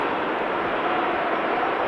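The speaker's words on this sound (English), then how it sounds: "I think it's a PC-12 in the background." A Pilatus PC-12 turboprop at Amsterdam Schiphol Airport gives a steady, broadband engine roar that holds evenly throughout at moderate distance, with no voices.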